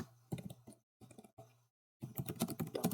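Fingers type code on a computer keyboard, a C++ output line for a singly linked list program, in quick clattering bursts of taps separated by short silent pauses, close and fairly quiet.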